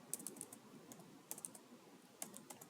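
Keyboard typing while entering HTML code, a steady patter of fairly quiet key clicks in small bursts with short pauses, no voices.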